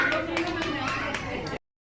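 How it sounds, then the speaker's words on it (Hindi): Guests at a Hariyali Teej party clap loudly and steadily, mixed with chatter and children's voices, before the sound cuts off abruptly. "वो देने के लिए जोरदार तालियां"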